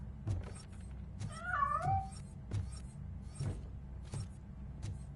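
A cat meows in the video game Robocop Rogue City, one drawn-out wavering meow amid faint rhythmic thuds and low background hum, with no talking.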